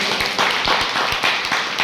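A seminar audience applauds steadily, a dense wash of many hands clapping at once, fairly loud and continuous throughout.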